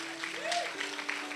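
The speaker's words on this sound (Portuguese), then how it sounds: "salva de palmas aí" A church congregation claps in a brief burst of applause, with a voice speaking over the clapping.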